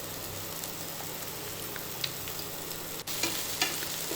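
Chopped tomatoes and tamarind fry in a lightly oiled pan, giving a steady close sizzle with a few faint scrapes and clicks of stirring, and no voices.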